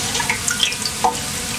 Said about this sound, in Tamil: இந்த இலையில நம்ம அகரகர கரைச்சி வச்சிருந்த அகரகர தண்ணி எல்லாத்தையும் சேர்த்துக்கலாம்